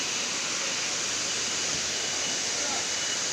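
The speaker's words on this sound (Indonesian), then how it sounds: "gunung air terjun" Steady, full roar of a mountain waterfall at Resun village in Lingga, a constant wash of falling water heard up close without a break.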